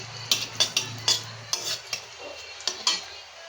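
Dried chilli, black cumin and a bay leaf stirred in hot oil in a pan, with a series of sharp utensil clinks and scrapes against the metal over a faint sizzle, nearby and without talking.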